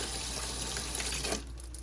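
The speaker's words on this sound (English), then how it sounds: "So I'm just going to rinse this. And the other part of the motor." Motor parts being rinsed under a running tap, a steady close rush of water into a sink that cuts off abruptly near the end, leaving faint background hum.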